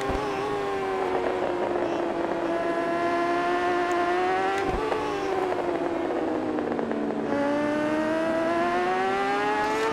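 Kawasaki motorcycle in the RiMS Racing video game, its engine whining steadily at high revs with a smooth tonal drone that dips and rises through corners, continuous and fairly loud for the whole stretch.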